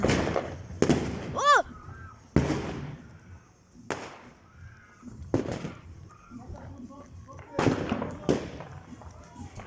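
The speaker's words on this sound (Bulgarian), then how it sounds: "Хиляда пиратки." Sharp firecracker bangs and pops at a New Year's celebration (1 January 2025), several loud bursts spread irregularly amid excited shouting and talking voices, with a whistling rocket rising near the start.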